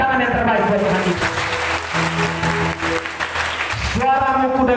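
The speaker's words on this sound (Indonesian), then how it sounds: "Beri tepuk tangan yang terbaik buat Tuhan kita." Congregation applause at an evening church revival service in Lelogama, a dense burst of clapping lasting a few seconds, with a preacher's amplified voice heard just before and after.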